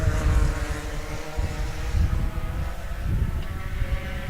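A pack of race cars at Sebring roars past on the track, a loud sustained droning engine rumble that swells and eases slightly as the group goes by.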